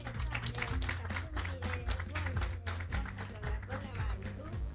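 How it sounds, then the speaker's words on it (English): Applause from a student audience at a semi-final and final competition event, greeting a Securities and Exchange Commission chief executive; steady clapping runs throughout over music with a strong low beat and some voices. "Let's please give him a round of applause"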